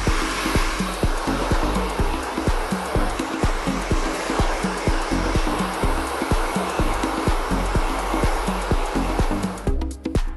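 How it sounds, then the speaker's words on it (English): A hair dryer roars at full power while hair is power-dried in a salon. The steady, loud, close blowing runs without a break and carries a faint rhythmic pulsing, with no talk. "So then we'll start off with power drying the hair."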